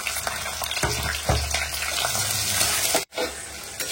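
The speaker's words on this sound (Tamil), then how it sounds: "ஆனியன் வந்து பாத்தீங்கன்னா நல்லா வதங்கிட்டே இருக்கு" Onions sautéing in a pan, a close, continuous sizzle and crackle with stirring scrapes and clinks, broken by a brief sharp dropout near the end before the frying resumes.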